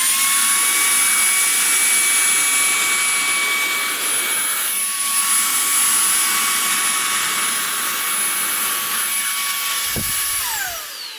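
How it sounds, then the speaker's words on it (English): A Shark Wandvac 2.0 handheld vacuum with its upholstery attachment runs continuously over a rug, a loud, steady high-pitched whine with a faint thump near the end as it winds down. "I'm gonna grab them with the upholstery attachment so as not to ruin the carpet"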